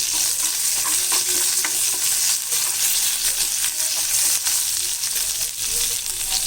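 Mustard seeds, cumin, asafoetida and curry leaves sizzle and crackle in hot oil in a pan for a chutney tempering, a loud, dense, continuous frying hiss with scattered sharp pops, close up.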